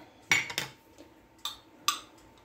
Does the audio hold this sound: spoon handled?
yes